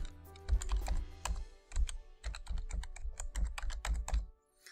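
Keys clacking on a computer keyboard as a fax number is entered, a quick irregular run of close, crisp keystrokes with no talking.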